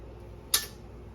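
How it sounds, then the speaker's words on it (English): A utensil stirring noodles in a cooking pot gives one short, sharp metallic clink against the pot, standing alone over a quiet background. "Now what you want to do is you want to make sure to stir the bottom"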